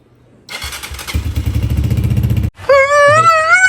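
A Honda 125 special edition 2025 motorcycle starts and runs loudly, its engine chugging with a fast steady rhythm close by, then cuts to a higher whining tone.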